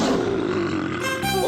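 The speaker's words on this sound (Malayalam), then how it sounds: "അത് സിംഹത്തിന്റെ ശബ്ദമാണ്" A cartoon-style lion roar, loud and close, one sustained growling bellow lasting the whole moment with a rising snarl at the end, heard alone.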